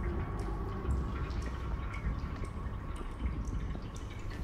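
Water drips steadily in a flooded underground area of the video game The Casting of Frank Stone, soft irregular drops over a dense, rumbling ambient background.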